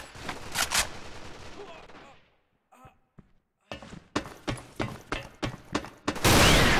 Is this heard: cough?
no